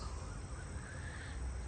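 House crows cawing at evening in a Punjab village among paddy fields, over a dense, steady background wash, the calls blending into a constant outdoor hum.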